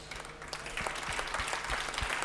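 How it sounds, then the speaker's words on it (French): Audience at an environmental business awards ceremony clapping steadily, a crisp, even patter of many hands continuing throughout without pause. "On peut vous applaudir."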